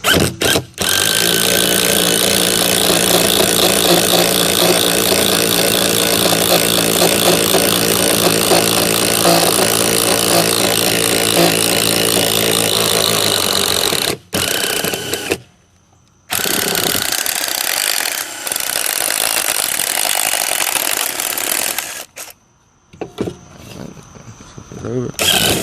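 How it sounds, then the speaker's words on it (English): An impact driver bores a hole with a 1.25-inch bit for a floating wine bottle holder: a loud, continuous grinding whine for about fourteen seconds, then silence, followed by a few shorter bursts and pauses. "I'm going to take my impact driver, and we can actually go ahead and drill this hole"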